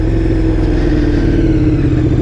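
A KTM 1290 Super Duke R motorcycle engine throbs loudly at steady revs, a deep, close, continuous rumble with no talking.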